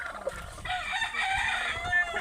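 A rooster on a small backyard chicken farm crows one long drawn-out call, with clucking from other fowl nearby and some faint background noise.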